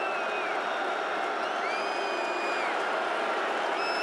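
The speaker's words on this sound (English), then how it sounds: "You can hear the crowd in the Dome getting into it." Dense crowd roar fills the Dome during a Georgia Tech vs. Syracuse college football game on second down, a steady wash of cheering and shouting with scattered whistles, continuous and fairly loud throughout.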